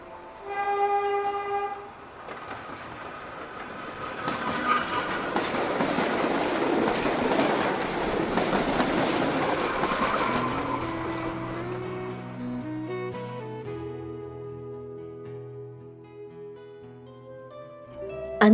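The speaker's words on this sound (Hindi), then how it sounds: "अंततः रेलगाड़ी हावड़ा स्टेशन पर रुकी।" A train runs on rails, approaching with a rising roar and rhythmic rattle of wagons that peaks midway, then fades as sustained horn-like tones and squealing wheels take over toward the end.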